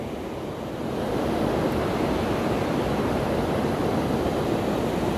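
Water pours over the wide spillway of the Zabumbão dam, filled to maximum capacity, a dense, steady roar that rises after a moment and then holds constant with no voices.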